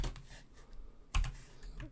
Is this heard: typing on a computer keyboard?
yes